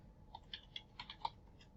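Computer keyboard typing in short bursts of crisp clicks, roughly eight keystrokes at an uneven pace, close and fairly quiet over a low background hum, with no talking.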